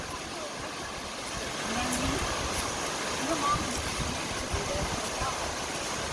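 A waterfall on a walking trail in Tahiti gives off a soft, steady broadband rush that stays fairly faint and distant throughout, with quiet voices over it.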